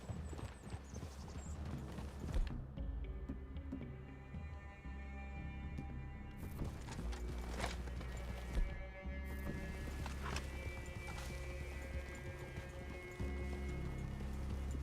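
Horse hooves clip-clop steadily through the whole stretch in the Red Dead Redemption II video game, a continuous rhythmic plodding of several horses under ambient game sound, with no talk.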